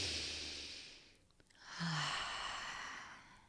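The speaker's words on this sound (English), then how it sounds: "Take a few deep breaths in." A deep breath drawn in slowly, an airy inhale that swells, pauses briefly, then a second fuller breath follows, close and quiet with no words.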